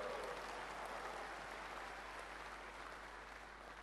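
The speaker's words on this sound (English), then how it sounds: "Clap, clap, clap your hands" Large audience at a leadership seminar in Fiji clapping together in a sustained wash of applause, heard from a distance and fairly faint, without speech.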